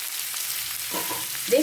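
Boiled potatoes with crushed chili fry in a pan, a soft steady sizzle with a brief knock near the end.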